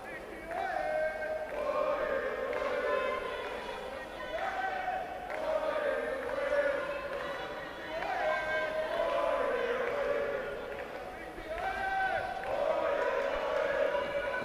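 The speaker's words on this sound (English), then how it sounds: "A lot of cheers for the boxer in the blue corner from Mozambique." Spectators at a women's world championship boxing bout cheer for a Mozambican boxer in the blue corner, chanting rhythmically in their own language in repeating waves that stay steady and moderately loud.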